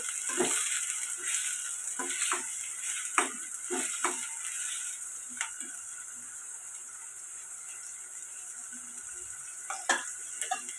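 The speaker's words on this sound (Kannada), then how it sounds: "ಇದು ಅರ್ಧ ಬರ್ಧ ಎಣ್ಣೆಲಿ ಫ್ರೈ ಆಗಬೇಕು ಈಗ ಸ್ಲೋ ಫ್ಲೇಮಲ್ಲಿ ಇದನ್ನು ಬಾಡಿಸ್ಕೋಬೇಕು" Green chillies and onion frying gently in oil over a slow flame, a faint, soft sizzle with scattered light scrapes and taps of a stirring spoon against the pan.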